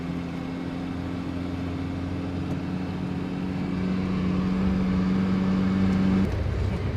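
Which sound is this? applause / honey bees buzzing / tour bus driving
tour bus driving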